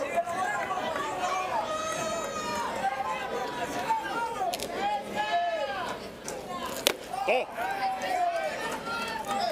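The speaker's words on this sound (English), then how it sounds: "Starting to hear the crowd a little bit." Crowd at a Little League World Series baseball game between Vancouver, British Columbia and Chiriquí, Panama, a steady murmur of chatter and shouts filling the stands, with a commentator's voice running over it.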